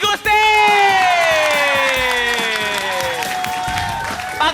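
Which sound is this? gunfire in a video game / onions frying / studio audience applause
studio audience applause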